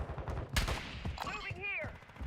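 Game gunfire from Call of Duty MW3 multiplayer: a sharp shot burst stands out amid busy combat noise, with radio-style voice callouts and tonal effects layered on top.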